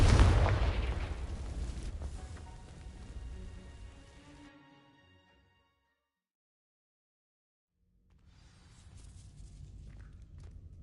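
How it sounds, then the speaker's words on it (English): A Confringo fire spell ignites dry vines in Hogwarts Legacy, giving a loud crackling burst with a rumbling roar that fades out over a few seconds, then a stretch of silence before a softer rustling ambience returns. "These dry vines are one spark away from becoming kindling. Confringo!"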